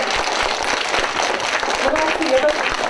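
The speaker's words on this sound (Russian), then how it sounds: "Ребят, хочу попросить погромче, поаплодируйте, пожалуйста." Audience applauds steadily at a culture-workers' day concert in a community culture centre, a dense sustained clapping from a crowd with voices mixed in.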